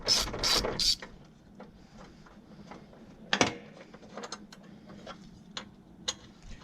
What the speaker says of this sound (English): Remove the 10mm on this bracket that's holding on to the AC hose.